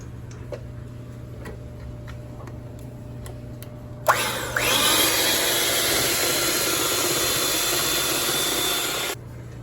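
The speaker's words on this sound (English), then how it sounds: "Now I'm gonna whisk it until stiff peaks form." Sugar and egg mixture whisked toward stiff peaks for pistachio raspberry cupcakes, probably with an electric mixer; after a few quiet ticks a loud, steady whirring starts and runs for about five seconds before cutting off, with no talking.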